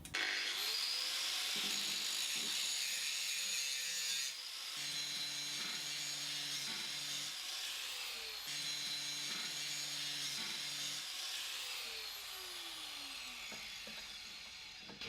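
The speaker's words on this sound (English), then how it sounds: "keep grinding it until this just slides in nice and freely" A tool grinds the edge of a VW Beetle sway-a-way beam adjuster part, a steady high-pitched metallic grinding whine that breaks off briefly around two points and shifts tone as pressure changes.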